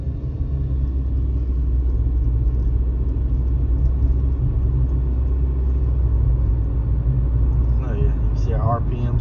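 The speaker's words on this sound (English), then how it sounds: "our RPMs come up to a certain point. They stay there and the vehicle accelerates." A car with a rebuilt CVT transmission accelerates while its engine holds a steady RPM, producing a constant low rumbling drone that stays level throughout, with a voice briefly at the end.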